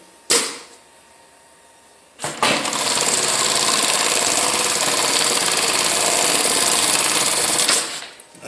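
Kingmax small pattern sewing machine with a 60x40mm sewing area stitching a safety belt: a sharp clunk and faint hum, then a loud, steady, high-speed mechanical whir for about six seconds before it stops abruptly.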